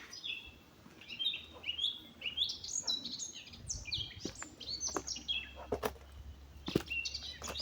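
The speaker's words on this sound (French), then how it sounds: "Je vous fais découvrir en même temps cette louange des oiseaux" Birds singing outdoors, several chirping and warbling calls overlapping in quick bursts, fairly close and clear over a quiet low background, with no talking.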